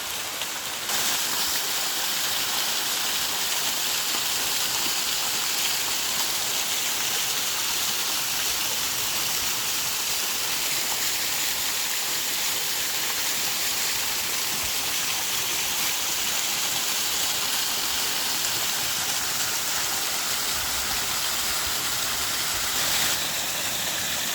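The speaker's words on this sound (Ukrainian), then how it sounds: "Дійшов до водоспада." Waterfall in Wilhelm park in Kassel, a steady broadband rush of falling water, close and constant throughout with no voices.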